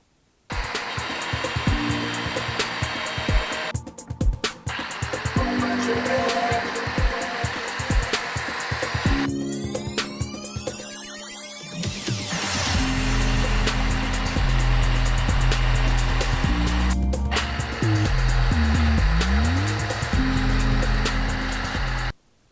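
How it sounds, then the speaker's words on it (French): An angle grinder cuts through a bicycle wheel axle clamped in a vise, a loud continuous whine that drops in pitch under load and rises again between passes. "je place ensuite l'axe dans l'étau. Il n'y a plus qu'à couper au lapidaire."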